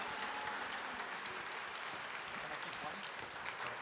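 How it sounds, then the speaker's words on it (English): An audience applauds at an exhibition opening in the Cathedral of St. John the Divine, a steady, moderately distant wash of clapping that lasts the whole stretch. "it deserves a round of applause"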